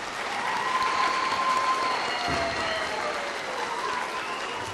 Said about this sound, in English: let's give them one last round of applause for our 7th graders.